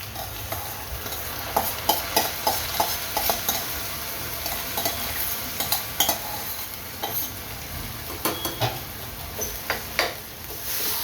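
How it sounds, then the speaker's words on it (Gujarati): Soaked basmati rice stirred into vegetable pulav over a lowered flame, a steady run of rhythmic scraping strokes against the pot under a soft frying sizzle, close, with no one speaking. "અને એને સારી રીતે હલાવી દો."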